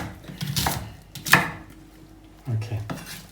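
A knife chops a small onion into little pieces on a board, with a few separate sharp knocks and scrapes and quiet gaps between them, all close up and without any talk.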